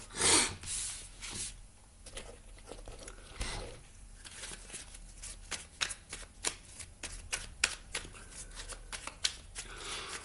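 Oracle cards shuffled by hand during a card reading, a dense run of rapid papery riffles and slaps lasting throughout, close and fairly loud with no talking.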